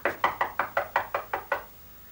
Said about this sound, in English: a banging on the door like that.